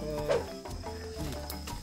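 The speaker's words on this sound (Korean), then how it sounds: "개구리 소리를 내니까 다른 개구리들이 반응해서 소리를 내요." Frogs calling outdoors at night, a steady overlapping chorus of tonal, buzzing croaks that carries on throughout at moderate loudness, with no voices.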